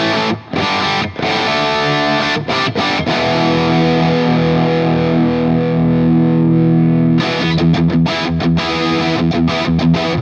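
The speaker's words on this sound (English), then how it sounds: "it's definitely got that Marshall middliness from the JCM 800" Heavily distorted electric guitar played through a Valeton GP200 modeling a Marshall JCM 800 amp: choppy chugging chords open and close the passage, with a long sustained ringing chord in the middle, loud and alone.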